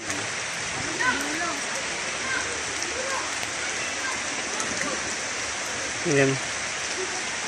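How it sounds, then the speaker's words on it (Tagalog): Steady rain falling at Maslog cold spring in Matuguinao, Samar, with a dense even hiss throughout, and a person speaking briefly over it. "Kaso umuulan nga."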